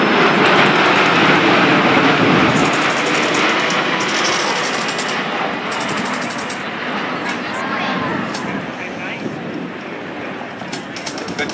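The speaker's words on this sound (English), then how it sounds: "Rob, look at this, the Osprey's coming in for the break." An MV-22 Osprey tiltrotor passes overhead at the 2019 MCAS Miramar airshow, its loud, broad rumbling roar filling the air as commentators talk over it.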